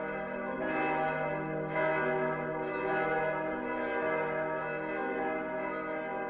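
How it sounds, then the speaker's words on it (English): A large village bell tolls repeatedly with a slow, even rhythm, its rich ringing tones sustaining and overlapping, heard clearly from a moderate distance. "a loud bell rang out from the center of the village"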